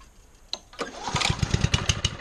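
A Honda HRU196 lawn mower engine catches after a brief pull and then runs with a rapid, steady chugging beat at close range, the revs rising and holding, with no talk over it.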